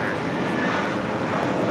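JetBlue Airways Airbus A320 departing LAX, a steady, moderately loud jet engine roar throughout a brief moment, with some wind buffeting on the microphone.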